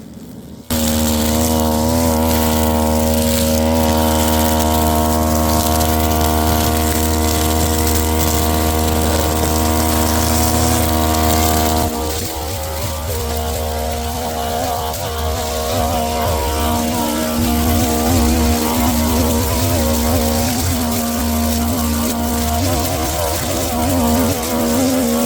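Two-stroke string trimmer (brush cutter) cutting tough grass at reduced throttle, around 60–70% RPM, during grave-site grass trimming; a steady loud buzzing whine that shifts and drops slightly in pitch midway as the line bites into the growth, with no talk.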